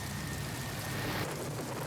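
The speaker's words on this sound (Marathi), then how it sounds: "कल्याण डोंबोली परिसरामध्ये मुसळधार पाऊस आहे" Heavy downpour in the Kalyan Dombivli area with waterlogged streets, a dense continuous roar of rain hissing steadily at close range, no voices.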